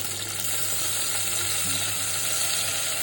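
Chopped onion and shrimp fry in white oil for a pumpkin-greens dish, giving a dense, even sizzle that stays loud and constant throughout, with no voices.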